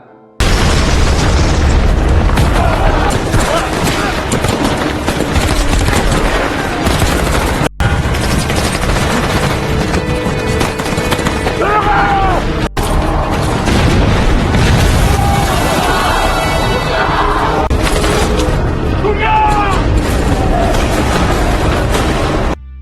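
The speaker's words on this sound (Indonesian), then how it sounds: "Aksi baku tembak pun tak terelakkan." A battlefield gunfight in a war film, with continuous machine-gun bursts, gunshots and heavy booming explosions, loud and dense throughout, and occasional voices shouting beneath the barrage.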